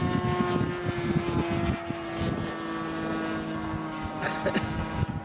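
A full-size power glider's aircraft engine drones steadily with a buzzing propeller note throughout, loud and continuous with some fluctuation.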